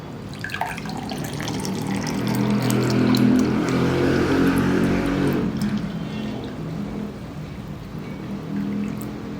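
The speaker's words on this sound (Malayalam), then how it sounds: "ഇനി നമുക്ക് ഗ്ലാസ്സിലോട്ട് ജ്യൂസ് ഒഴിക്കാം" Homemade grape juice poured into a glass, a steady close liquid stream that swells and then thins out over several seconds, with no speech.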